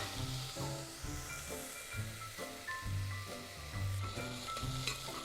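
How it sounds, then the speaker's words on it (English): Onions, garlic and cumin sizzle and fry steadily in a pan while cooking down, a continuous close hiss with faint stirring clatter, no talking. "I'm going to cook that right down until the onions are translucent"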